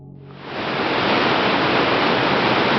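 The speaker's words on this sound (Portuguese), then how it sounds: "O som da água caindo dominava o ambiente" Waterfall at a forest swimming spot in Rio de Janeiro state, a dense, steady roar of falling water that swells in over the first half second and then holds loud and constant, with no voices.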